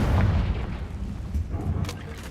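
Confringo spell explosion in Hogwarts Legacy, a booming blast at the start settling into a rumbling, crackling tail with a few later pops, close and fairly loud.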